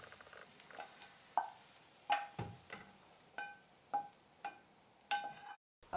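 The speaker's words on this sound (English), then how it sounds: "everything in the pan has been sauteing nicely" Ingredients for a pasta sauce sauté in a pan, with a faint sizzle under a series of light clinks and taps from a utensil stirring at an irregular rhythm.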